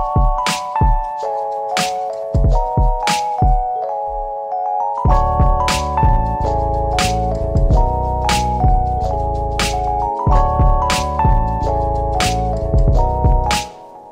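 A mellow lo-fi beat with sustained chords, a steady kick and clap pattern, and bass entering partway through, playing continuously without voices.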